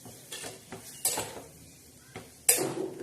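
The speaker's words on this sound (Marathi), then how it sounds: "अशी पळी घ्यायची पळीच्या मागच्या बाजूने अशी अशी घोटायची" Cooked spinach and dill greens are mashed against a pan with the back of a ladle, a few irregular metallic scrapes and knocks, with the strongest thuds near the middle and end.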